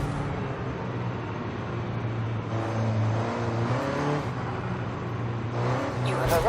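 A Mini John Cooper Works GP engine drones steadily while driving in a racing game, a sustained mid-loud hum with shifting revs and a brief sharp scrape near the end.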